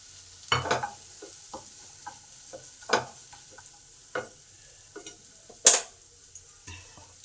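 Spice paste of ground ginger, garlic, onion and tomato with a few peas fries in oil, with intermittent soft scrapes and stirring knocks of a spatula in the pan at close range, fairly quiet between strokes.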